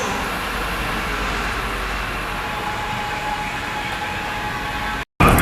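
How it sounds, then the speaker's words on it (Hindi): Inside a metro train, a steady loud rumble of rolling wheels and motor noise fills the carriage continuously, close and enveloping, then cuts off abruptly near the end. "ये मेट्रो में है हम"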